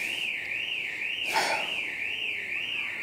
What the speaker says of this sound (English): so that alarm is doing my nut.